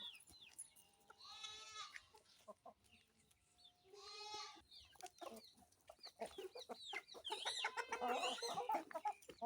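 Free-ranging chickens cluck and squawk at feeding time, scattered close calls building into a louder, busier flock chorus toward the end.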